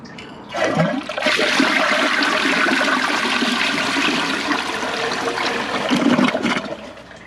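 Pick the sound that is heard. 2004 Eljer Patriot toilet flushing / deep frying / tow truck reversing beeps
2004 Eljer Patriot toilet flushing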